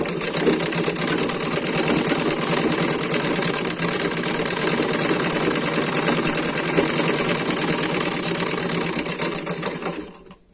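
A sewing machine stitches two pieces of dress fabric together in a steady, fast mechanical whir that stays loud and close for about ten seconds before winding down at the end. There is no talking.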